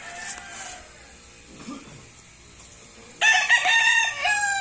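Chickens in a poultry house cluck and a rooster crows loudly near the end, with more fowl calling faintly in the background.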